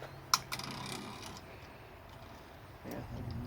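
A special axle tool being turned on the rear hub of a 2006 Ford F250 during an axle seal replacement, giving a sharp click followed by soft ratcheting ticks and faint mechanical rattling in a quiet garage.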